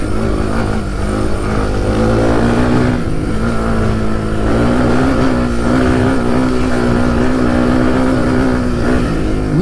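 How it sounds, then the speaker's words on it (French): A Suzuki DR 350 enduro motorcycle on worn, smooth tyres climbs a rocky trail, its single-cylinder engine droning loud and close at steady revs throughout, without any speech. "là c'est une moto, tu feras tout avec"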